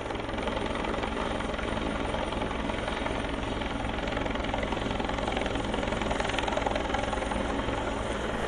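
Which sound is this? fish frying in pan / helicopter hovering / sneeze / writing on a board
helicopter hovering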